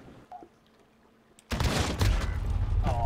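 Rapid bursts of gunfire in the Call of Duty Modern Warfare video game during an urban firefight, sudden and loud after a quiet stretch, continuing as dense overlapping shots.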